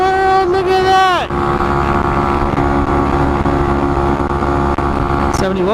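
A Honda Monkey motorcycle cruises at about 70 mph on a Southern California freeway, Highway 210 West: a loud, steady engine drone with a short rev-up and gear change near the start, then a constant whine mixed with wind.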